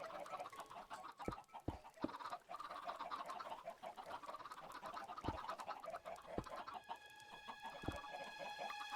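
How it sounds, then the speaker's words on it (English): Chickens in a crafting video game cluck and crow repeatedly, with several sharp cackles and clucks scattered over a busy background of in-game sound, fairly quiet overall. "These fucking chickens."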